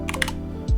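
Several quick keystrokes on a computer keyboard, a close, crisp burst of clicks over a low steady hum, ending in a louder thump.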